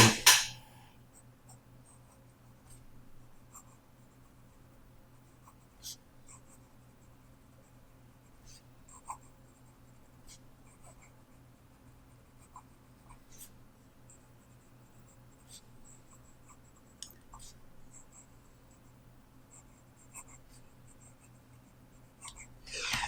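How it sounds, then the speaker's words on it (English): A vintage Reform 1745 fountain pen writes on paper with Robert Oster Australian Sky Blue ink, making faint, close scratchy strokes and soft taps scattered over a steady low background hum. "So, quick writing sample."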